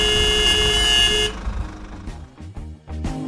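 Car horns blaring in a busy Indian street scene from the 2015 Bollywood film Phantom. A loud, sustained honk fills the first second, then several shorter overlapping toots and beeps follow amid traffic noise.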